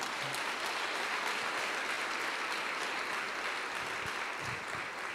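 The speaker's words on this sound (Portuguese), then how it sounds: "Uma salva de palmas para o nosso irmão." A church congregation applauds a visiting member during a worship service, steady continuous clapping heard at a moderate distance with a faint, washy quality.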